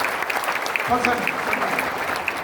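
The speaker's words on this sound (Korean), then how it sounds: "박수." Congregation applause at a Sunday united worship service at Sarang Jeil Church fills the room as a steady wash of clapping, with someone talking over it throughout.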